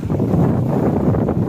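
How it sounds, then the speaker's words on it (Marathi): Strong wind at a jetty in Alibaug, roaring as a steady, loud rush with buffeting against the microphone and no voices. "भरपूर मस्त वारा सुटला आहे"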